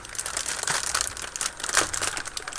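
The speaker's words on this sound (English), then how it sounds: "We've got our plastic bags, so be careful with the plastic bags." Plastic bags crinkling and rustling as they are handled while unboxing a Hobby Boss 1/16 scale Tiger I tank model kit, a close, continuous crackle with no talk.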